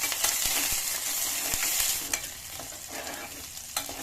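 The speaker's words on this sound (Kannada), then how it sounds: "ಜೀರಿಗೆ ಹಾಕೊಂಡ್ಬಿಡಿ, ಕರಿಬೇವು ಹಾಕೊಂಡ್ಬಿಡಿ, ಈರುಳ್ಳಿ ಫ್ರೈ ಮಾಡ್ಕೊಂಡ್ಬಿಡಿ" Onion fries in hot oil with cumin, mustard seeds and curry leaves for a sprouted hyacinth bean sambar, a steady close sizzle broken by scraping stirs, with no talking.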